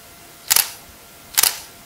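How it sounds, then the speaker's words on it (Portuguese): A single-lens reflex camera shutter fired at a fast speed, two crisp mechanical clacks about a second apart, loud and close in a quiet room. "Agora eu vou aumentar a velocidade do obturador."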